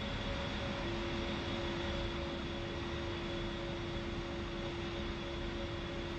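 Steady aircraft engine drone from a flight-sim jet at taxi power, a continuous broadband roar with fixed tonal whine, even and unbroken throughout with no talk.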